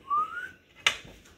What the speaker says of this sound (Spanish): cuando le pegamos a ese silbidito, amigo, como que el cuchillo agarra una fuerza bárbara